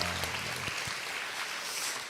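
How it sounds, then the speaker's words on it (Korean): A church congregation applauds during a Sunday worship service, a brief burst of broad, even clapping filling the room. "박수하겠습니다."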